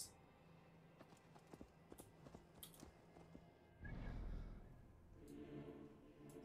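Horse hooves in Assassin's Creed Valhalla, a faint, steady clip-clop of rhythmic taps, followed by a louder rustling thump and a low rumble.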